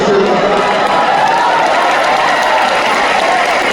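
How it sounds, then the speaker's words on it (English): Loud, sustained applause and crowd noise from an audience at a Jio convention talk, continuous clapping mixed with some cheering for nearly four seconds. "Everybody big round of applause."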